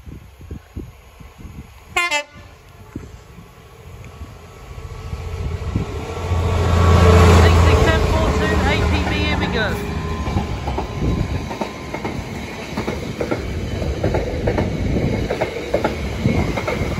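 A train passes over Hibaldstow level crossing on the Scunthorpe to Doncaster line, a horn blast near the start, then a loud, close rumble with clattering wheels and squeals that swells and stays strong as the wagons roll by.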